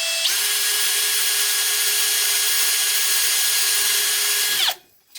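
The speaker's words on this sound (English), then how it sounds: "So you're going to want to use a 3/32 inch drill bit." A power drill runs steadily with a 3/32 inch bit boring a hole into wood for a toy, its high whine holding constant for several seconds before spinning down and stopping, heard close with no talk.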